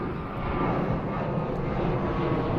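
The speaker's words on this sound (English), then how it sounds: "so that's what you're hearing is planes going over." Planes passing over near an airport produce a steady, loud, broad engine roar in an outdoor garden setting, with no speech during the drone.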